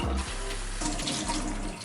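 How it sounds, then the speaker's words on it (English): Cool tap water runs steadily over lentils in a kitchen sink, a continuous close splashing stream with brief shifts as the grains are rinsed and drained. "I'm rinsing the lentils with cool water, rinsing and draining them 3 times"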